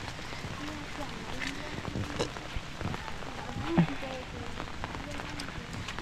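Rain falls steadily on surfaces at a rural farm settlement in Laos, a soft, even patter throughout, with a voice heard faintly at times beneath it.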